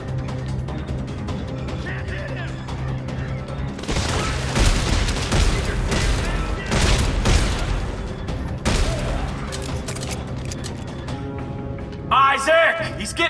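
Gunfire in the video game Dead Space 3, a dense fusillade of shots and booms with clanking mechanisms, loud and continuous over several seconds, with characters shouting amid the firing.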